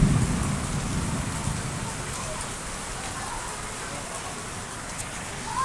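Steady rain falling in the city of Bogor, a constant close hiss of drops on surfaces at moderate intensity, continuing unbroken with a faint voice underneath.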